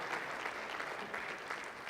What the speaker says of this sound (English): How about a round of applause for Bob for me here?